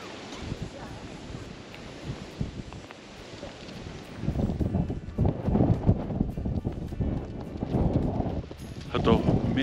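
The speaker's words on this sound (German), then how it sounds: "Hat auch merklich abgekühlt, der Wind, der ist richtig, richtig kalt." Cold wind gusting across a microphone outdoors on a trip to Neuruppin, Germany, with broad rumbling buffeting that grows stronger and louder in the second half.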